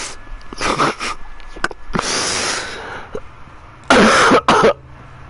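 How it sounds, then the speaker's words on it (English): A sick person coughs in several hoarse bursts close up, with throat clearing and a longer raspy fit between, loud and alone with no talking. "Sorry for coughing a lot"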